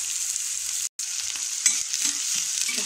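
Onions and tomatoes sauteing in a pan, a steady, bright sizzle with light stirring scrapes and one brief dropout, with no voices.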